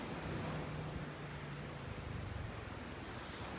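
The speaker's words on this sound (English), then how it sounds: "It's just way too windy." Steady, faint wind rushes and buffets against the microphone on a beach in North Naples, Florida, a low continuous roar with no voices.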